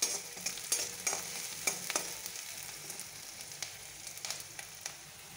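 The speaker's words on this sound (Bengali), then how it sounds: "লাল লাল করে পেঁয়াজগুলো ভেজে নেব।" Onions, lightly salted, fry in a pan until reddish with a soft, steady sizzle, punctuated by sharp scraping clinks of a spatula stirring against the pan, fairly close and without talk.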